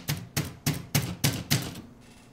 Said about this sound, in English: and you hear the typewriter,